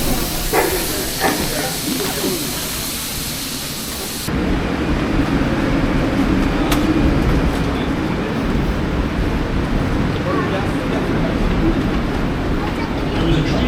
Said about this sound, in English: There is a train approaching the station.